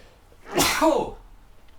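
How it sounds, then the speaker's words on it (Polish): A single sharp human sneeze bursts out close and loud after a brief inhale, standing alone with no talk around it. "O, będę kichał, będę kichał."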